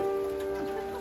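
Morning rain falling steadily and close by, a continuous hiss of drops with faint rooster or chicken calls mixed in, no talking.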